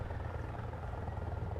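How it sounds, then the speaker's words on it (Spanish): A Mi-24 Hind attack helicopter drones in the combat video game War Thunder, giving a steady, continuous rotor and engine roar at moderate level with no talking over it. "MI-24 de denominación OTAN Hind."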